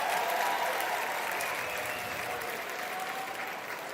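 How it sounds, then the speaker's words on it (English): Steady crowd applause at a Triple-A playoff baseball game in Durham's ballpark on a Thursday night, a continuous wash of clapping and cheering that holds throughout with little variation. "this intimate gathering here at the DBAP on this Thursday night are applauding louder and louder"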